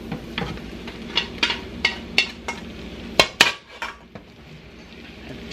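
Egg noodles and cabbage are stirred together in a pan for haluski, with a run of sharp metallic scrapes and clinks of the utensil against the pan, closely miked, over a faint low background.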